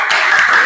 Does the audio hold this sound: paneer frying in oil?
no